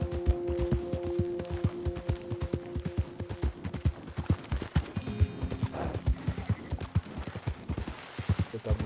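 A horse's hooves clip-clop steadily and rhythmically while riding in the Red Dead Redemption 2 video game, a close, continuous canter under sustained tonal game music, with a brief whinny-like sound.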